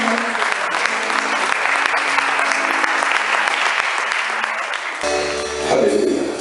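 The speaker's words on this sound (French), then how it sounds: "Et recevons-les avec des acclamations." A church congregation applauds a guest speaker after a sermon, with loud, continuous clapping and crowd noise throughout, and a voice comes in near the end.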